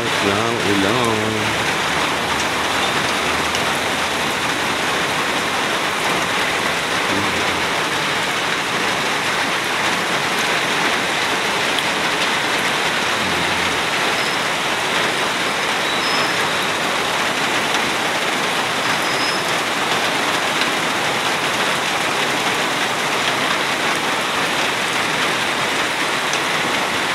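Typhoon Tino drives a sustained heavy downpour over Turiosga, a thick, even hiss of rain on surfaces lasting throughout, loud and close, with no break in intensity.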